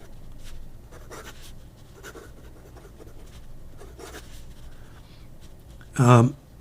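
A Wingsung fountain pen with a steel medium nib scratches across paper in soft, intermittent strokes, close and quiet, ending in a brief louder burst; a voice talks now and then.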